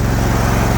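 Engine of a 52-inch Hustler Raptor zero-turn riding lawn mower with automatic choke, already running: a steady, loud low idle with a constant rumble throughout, no voices.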